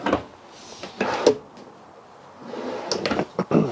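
Wooden cabinet doors and drawers in a 2019 Northwood Nash 29S travel trailer being opened and shut, giving several close knocks, slides and thumps in quick succession with a short pause between groups.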